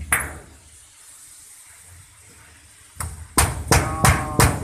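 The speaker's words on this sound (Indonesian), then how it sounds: "Dipukul sama palu karet" A rubber mallet strikes a clamp on a lower deck accommodation fitting, four or five sharp knocks following one another closely near the end after a quiet stretch.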